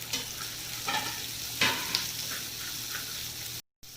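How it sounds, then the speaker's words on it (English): Vegetables sauté in a hot pan, a steady sizzle broken by a few stirring scrapes and pushes of the spatula, close and moderately loud, with a brief dropout near the end and no speech. "So now I am adding rest of veggies in it and I will saute it for more 30 seconds or a minute max."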